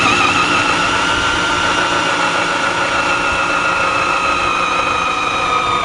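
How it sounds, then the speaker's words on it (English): A 3/4 inch hole saw cuts holes for lights on a 2016 Kawasaki Teryx ATV. It makes a loud, steady whine with drifting tones that holds the whole time, with no talk. "we got our 3/4 inch hole saw here"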